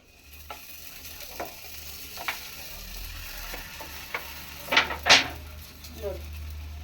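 Kayi obbattu, a sweet coconut-filled flatbread, cooks in oil on a hot tava, giving a low steady sizzle with scattered taps and two louder scraping clinks near the end.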